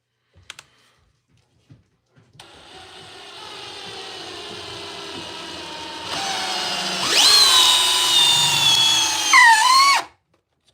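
A power drill drives a bent timber lock screw into wood, starting after a few faint knocks and whining steadily for about eight seconds, with the motor pitch rising and straining near the end before it cuts off abruptly.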